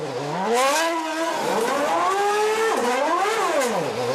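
A 2010 Renault Formula 1 car running through the pit lane at the Chinese Grand Prix, a loud, close, high-pitched engine whine with rising and falling revs across several gear changes, heard alone.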